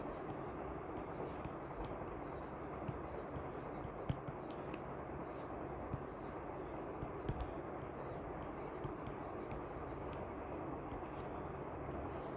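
Faint scratchy strokes of writing a title on a board, heard as light irregular marks over a steady background hiss.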